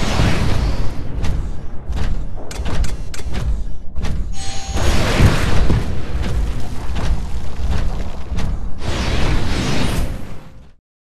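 Rockets blast and explode around a Titan in Titanfall, a loud barrage of booms, bursts and whooshes hitting in quick succession, then cutting out abruptly at the end, with no talk.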